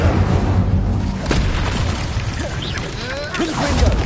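A fire spell cast during Hogwarts Legacy gameplay, heard as a deep, continuous whooshing rumble with scattered crackles and short swooping tones, loud and steady throughout.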